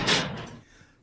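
A jail cell door in a radio play opens or shuts in a single quick scraping clunk, close and brief, then fades to quiet.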